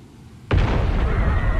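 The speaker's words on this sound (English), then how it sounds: "What was that booming noise?" A sudden loud explosion booms in the anime fighting game Bleach: Rebirth of Souls, a sharp onset after a quiet moment, followed by a sustained heavy rumble that fills the remaining second with no talking.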